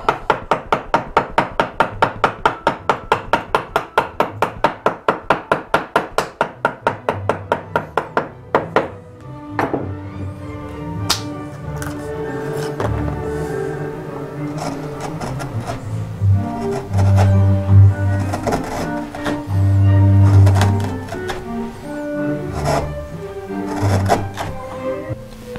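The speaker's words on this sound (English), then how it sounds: "So we'll use the mallet to shave it off a little bit." Sharp, evenly spaced mallet strikes on a chisel come fast and loud, then give way to looser, irregular knocks and scraping as the tool shaves squirrely wood grain on a curved blockfront chest drawer.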